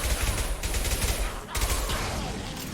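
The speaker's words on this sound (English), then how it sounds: "this submachine gun really is burst fire" Rapid overlapping gunfire bursts from a submachine gun in Mass Effect 2 crackle loudly and continuously, with a brief gap around the midpoint before the shooting resumes over game noise.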